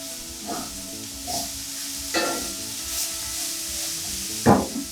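Broccoli is stirred in a sizzling pan: a steady low sizzle broken by about five scraping stirs at irregular intervals, the last one the loudest.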